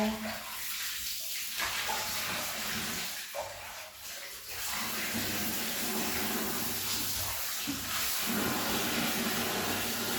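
Water flows steadily from a tap, a continuous loud hiss lasting the whole time, with a few brief voices mixed in underneath.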